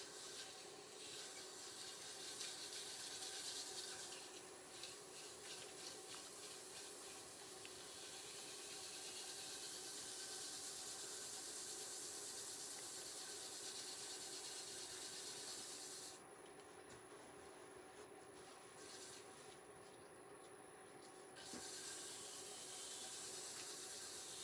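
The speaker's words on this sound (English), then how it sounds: "we'll do a little bit of slow sanding" A steady, soft abrasive rubbing hiss of slow sanding on wood turning on a lathe runs continuously over a faint mechanical hum, sustained and even throughout with no voices.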